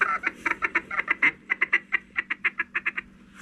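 Duck call blown by a hunter at close range, a rapid run of about twenty nasal quacking notes in a steady, slightly slowing rhythm, loud and alone against a quiet outdoor background.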